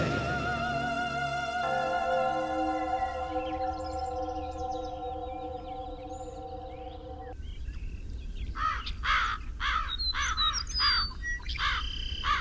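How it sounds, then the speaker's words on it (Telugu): Crows caw repeatedly in short harsh bursts over a steady background hum, with other birds chirping nearby; the calls cluster in the second half, fairly close and clear. "ఏమైందో తెలియలా ఉదయం నుంచి కాకులు అరుస్తున్నాయి."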